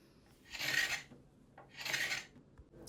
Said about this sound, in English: Once I removed the majority of the finish using the carbide scraper